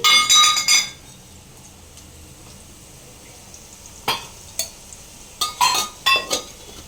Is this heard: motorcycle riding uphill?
no